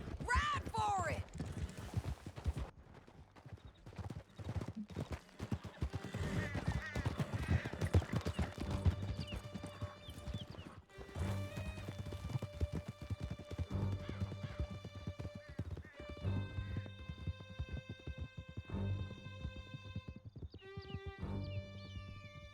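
Horses gallop in the Red Dead Redemption 2 epilogue, dense hoofbeats and clatter running through a canyon escape, with a neigh or two, under game music and character voices.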